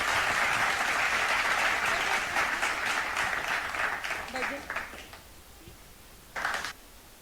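Audience at a school event applauds Hyderabad International School and its teachers, dense clapping that gradually thins into scattered claps and dies away, followed by one brief late burst.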